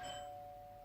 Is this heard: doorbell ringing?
yes